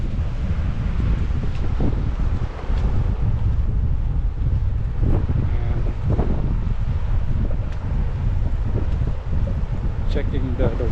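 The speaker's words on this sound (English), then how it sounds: "You see how the wind look like. The wind is 14 miles per hour, west northwest." Steady wind at Kenner Pier, blowing about 14 mph from the west northwest, roars and buffets the microphone with low rumble for the whole stretch, and a voice talks intermittently over it.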